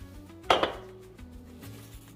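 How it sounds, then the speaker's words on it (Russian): A metal pot lid clinks and scrapes once sharply against a surface while trimming soft cake layers, followed by quieter faint scraping and a low background hum. "Для обрезки я использовала обычную крышку от кастрюли."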